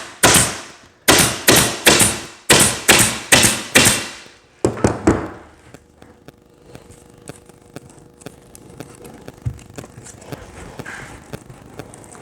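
Staple gun driving staples through vinyl-like covering into the cabinet of a 1988 Fender Princeton Chorus amp: about eleven sharp, close snaps in a quick run, followed by faint handling and rustling.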